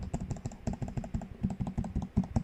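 Rapid, steady typing on a TG3 mechanical keyboard, close up, with dense clustered key clacks and a fairly quiet, muted character, no voices.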